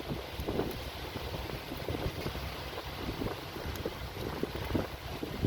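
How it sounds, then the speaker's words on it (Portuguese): Strong wind blows outdoors and buffets the microphone in a continuous low rumble with gusty surges, steady throughout and with no voices. "É porque o vento tá demais aqui"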